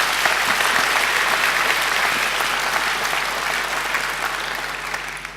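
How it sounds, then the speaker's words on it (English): Thunderous audience applause for a singer at a graduation ceremony, a dense, loud, sustained roar of many clapping hands filling a large hall and fading only slightly over five seconds. "she needs another great round of applause"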